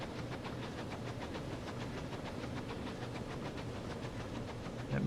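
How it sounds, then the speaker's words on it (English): In Transport Fever 2, a steam locomotive pulls passenger wagons at speed with a quick, regular chuffing beat over a continuous rumble, held steady and quiet, without speech. "I think this is our fastest train."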